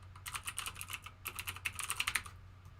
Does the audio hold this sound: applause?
no